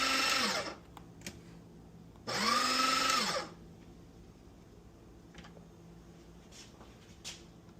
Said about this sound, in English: I let the grinder go too far, and I could start to hear it make the noise where I went too far with it